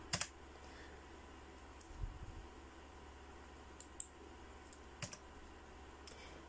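Scattered faint computer keyboard key clicks while logging into a Fiberhome AN5506-04-FA router admin page, a few isolated taps over a steady low hum of quiet room noise.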